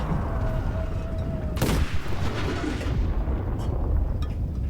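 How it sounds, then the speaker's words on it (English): Pz III J tank cannon firing an armour-piercing shell in the World War II shooter Enlisted: one sharp, loud blast with a rumbling tail, set against continuous battlefield noise and distant clatter. "I'm still firing that AP shell because I still think there's going to be some tanks turn up any minute"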